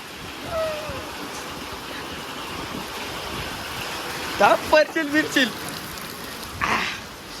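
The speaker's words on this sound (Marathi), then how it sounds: "जाम पाऊस आला जोरात" A heavy downpour in Ulhasnagar pours down as a dense, steady hiss that stays loud the whole time, with a few brief voices breaking through near the middle.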